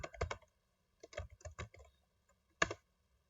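Quiet, close keystrokes on a computer keyboard while commands are entered for a network switch, coming in short clustered bursts of clicks with brief pauses, ending in one firmer tap.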